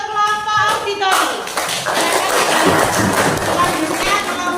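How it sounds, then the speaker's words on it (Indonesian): Classroom clapping for a student group during a civics (PPKn) teaching practice lesson, a burst of hands that starts after a brief spoken moment and carries on steadily, mixed with voices and chatter. "tepuk tangan untuk kelompok auditori"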